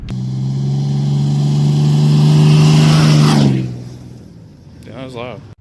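A loud 2012 Ram 3500 Cummins diesel truck engine revs and roars steadily for a few seconds, then winds down and fades out.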